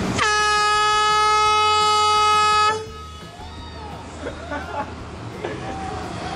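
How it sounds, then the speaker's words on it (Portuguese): A loud air horn blasts from a balcony at construction workers for nearly three seconds, then cuts out, leaving street noise and distant voices behind. "Vai, Ravanha, Ravanha, vai buzinar pros pedreiros, vai."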